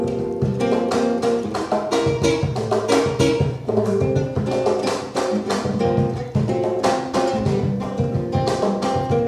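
A live band performs a festive Latin song with its author singing lead, dense steady music with percussion, bass and vocals filling the whole stretch at full, close level.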